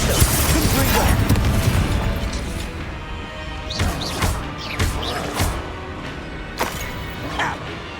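Fiery blasting spell explosions in a Hogwarts Legacy duel, a loud sustained roar of booms and crashes at first, then scattered sharp bursts and whooshes that fade into quieter thuds.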